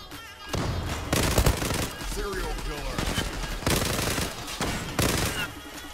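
M468 and AUG-A3 rifles fire in long automatic bursts in the Zula shooter game, loud and close, broken by a few short gaps, with a voice talking faintly underneath.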